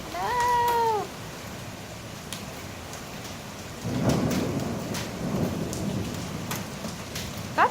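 Hail and rain pound a car during a supercell storm in Rosenberg: a steady roar of rain with scattered sharp hailstone impacts on the bodywork, preceded by a brief wailing, voice-like tone.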